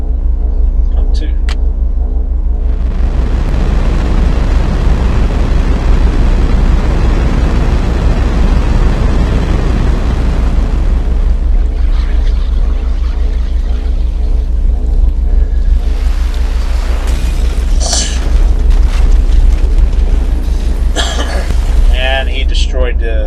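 A pump explodes in the video game Parasite Eve during a sewer section, a loud sustained rumbling blast lasting about eight seconds over steady machine hum, followed by crackling debris and later sharp bursts.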